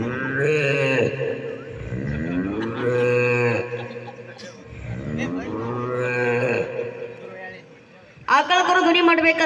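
A human voice imitates a cow calf mooing with several drawn-out, wavering moos in a row, loud and close, the last one higher and sharper, performed on stage at a village fair comedy show.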